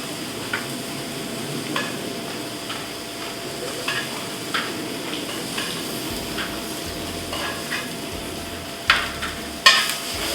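Prosciutto crisping in a hot pan gives a steady, even sizzle throughout, broken by occasional light clinks and taps of a utensil against the pan.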